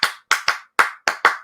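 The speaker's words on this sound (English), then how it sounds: "You got that clap." Six sharp, separate hand claps at an uneven pace, each crisp and close with a short decay, with no voices.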